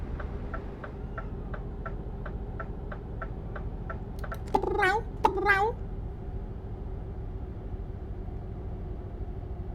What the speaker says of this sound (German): Oh, Katze. Kater meine ich.